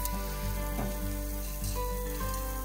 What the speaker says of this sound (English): Add the wet rice, and steam off any remaining moisture on the rice. Use a spatula to spread the rice and keep it moving.